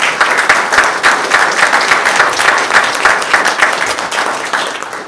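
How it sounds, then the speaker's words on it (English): A crowd at a legislative event gives a round of applause for a bill being passed, dense steady clapping sustained and loud throughout. "everybody needs to give Jim Orman a round of applause for that bill being passed"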